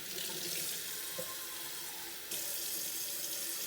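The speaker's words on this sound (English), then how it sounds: "I'm going to add to my saucepan about 1 inch of water." Water runs steadily from a tap into a saucepan, filling it to about an inch, a continuous close hiss and splash that briefly dips then resumes at full strength.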